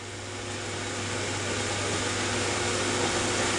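An 880-S spin rinse dryer with SlickDevice S1 controllers and A192-81M rotors spins up, a steady, loud broadband whoosh and whir that builds slightly in the first second, then holds constant.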